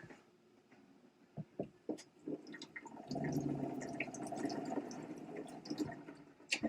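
A Winning Razor V1 is rinsed under running water. Faint splashes and drips come first, then a steadier flow that fills the middle stretch, followed by more scattered drips.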